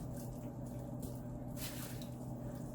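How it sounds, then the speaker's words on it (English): Spoon stirring a pot of low carb taco soup, quiet soft squishing and wet liquid swirls running steadily at close range with no talking. "we're gonna just take our spoon and stir up all of this"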